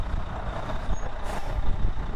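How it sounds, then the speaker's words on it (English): A Red Septic Service truck rolls past in a Christmas parade, its heavy engine rumbling steadily close by among crowd noise, with a brief hiss like an air brake partway through. "there, of course, is the Red Septic Service truck"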